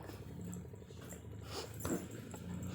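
A puppy whimpers and yips softly near a riverside spot where a large fish has been caught, faint cries over steady outdoor background noise.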